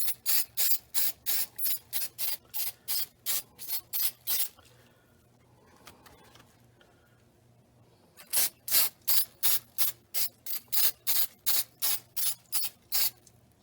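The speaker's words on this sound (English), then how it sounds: "now I need to spray this side of the foam here" Spray adhesive hisses onto foam during a C3 Corvette seat restoration, coming in two runs of quick, evenly spaced bursts separated by a short quiet gap, close and clear.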